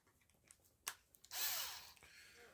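Cordless power drill driving screws back into an RC car's front differential, a short burst then a longer whirring run near the microphone, with small clicks and handling noises before.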